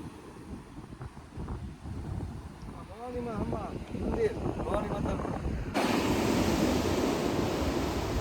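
Sea surf breaks along a village shore on a stormy day, a broad rumbling wash of waves mixed with heavy wind buffeting the microphone, while someone talks over it.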